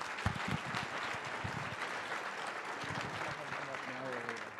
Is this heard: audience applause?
yes